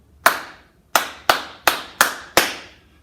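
Six sharp hand claps ring out in a rhythm pattern, a single clap followed by a pause and then five evenly spaced claps, each crisp and close with a brief decay.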